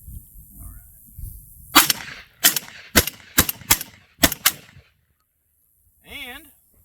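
A Tokarev TAR 12P semi-automatic shotgun fires seven sharp, loud shots outdoors at a range in an uneven rapid string, each blast with a brief ringing tail, followed by quiet and a short distant warbling tone.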